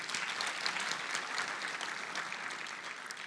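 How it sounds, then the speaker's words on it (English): A conference audience in a large hall applauds steadily, a dense wash of many hands clapping at an even level for a few seconds with no voices over it. "I believe that that deserves a round of applause from the House."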